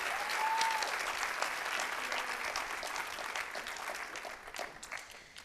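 A high school senior honors night audience gives another round of applause for award winners, a sustained crowd clapping that gradually thins and fades, with a brief voice heard early on.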